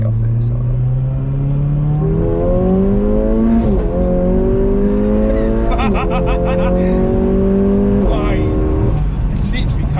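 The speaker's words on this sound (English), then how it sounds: "it accelerates and then the next gear comes in, it goes again" A tuned Mercedes A45 AMG Stage 2 with about 430 bhp accelerates hard through the gears. Engine note climbs steadily in pitch, then drops at each upshift around four times. Loud, continuous, close, with occasional voices over it.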